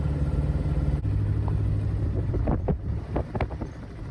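A 1952 Triumph Mayflower car drives along a rural North Carolina road past forest and cornfields, its engine giving a steady low drone under strong wind and road rumble, with a few brief bumps and rattles near the end.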